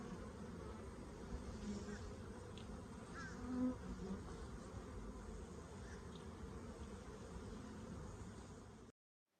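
A dense, steady hum of many honey bees buzzing close by at a hive, with occasional individual bees droning past, fairly soft overall.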